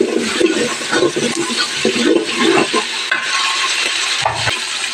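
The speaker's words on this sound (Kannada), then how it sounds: "ಇದನ್ನು ಇವಾಗ ಚೆನ್ನಾಗಿ ಬಾಡಿಸ್ಕೊಳ್ತೀನಿ" Onion, tomato and mint sauté in a pan, with close, busy stirring scrapes and a soft sizzle running continuously.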